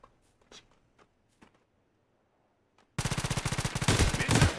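Loud, rapid automatic gunfire in the battle royale game Knives Out erupts suddenly after a near-silent stretch with a few faint taps, then continues as dense, sustained bursts to the end.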